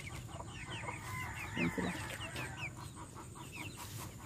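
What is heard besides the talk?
chickens clucking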